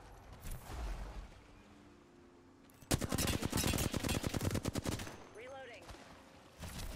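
Rapid automatic gunfire in Apex Legends rips out in one loud sustained burst lasting about two seconds, framed by quieter game ambience, with a brief voice-like sound afterward.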